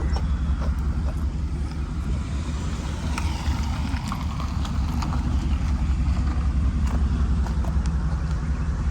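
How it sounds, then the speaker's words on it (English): A 2003 Mercedes SL500 with a sagging ABC suspension idles and rolls into a garage, its low engine rumble steady and loud throughout, with faint scattered clicks and knocks above. "So now I'm about to pull this in the garage and slowly get this one started"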